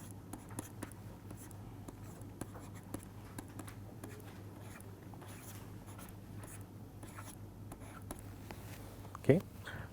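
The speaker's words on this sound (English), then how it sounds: "let me write down the telegrapher's equations just for the sake of completeness" Chalk or marker scratches across a board as equations are written during a transmission-line lecture. Quiet, intermittent scraping strokes and taps sound over a soft room hum, and a brief sharp sound comes near the end.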